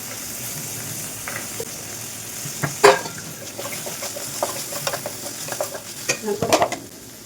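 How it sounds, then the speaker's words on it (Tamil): Avial vegetables cooking in a pan while being stirred with a spoon, soft sizzling under intermittent scraping and clinking strokes, several sharper knocks of the utensil against the pan, close and moderately loud. "ஸோ நம்ம நடுவில் வந்துட்டு கிளறி விடணும், இல்லைன்னா வந்துட்டு அடிப்பிடிக்கும்."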